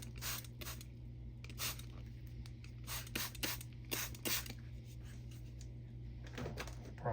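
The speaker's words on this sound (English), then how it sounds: "Let me spray them again." Repeated short bursts of spray hiss as water is sprayed on rocks, several quick squirts in irregular clusters over a steady low hum, fairly close.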